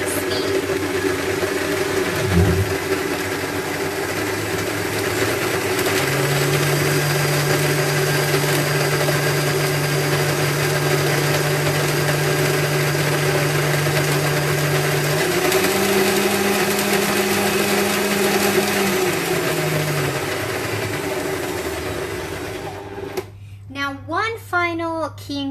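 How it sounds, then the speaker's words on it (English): A kitchen blender runs steadily under a faint background hum, its motor pitch stepping up partway through as the speed rises, then winding down before a voice speaks briefly at the end. "Your blender is strong enough to withstand it. Start slow and then gradually increase the speed."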